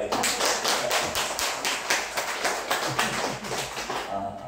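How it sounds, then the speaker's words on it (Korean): A church congregation claps together in a steady, even rhythm, sharp close claps repeating about three times a second before trailing off. "자, 박수치를 확실히 칩시다."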